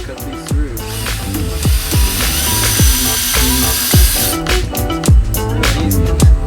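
A power tool cuts through soft PVC pipe in a shop with a loud, buzzing grind. Repeated sweeping whines and rattles run under a hissing wash.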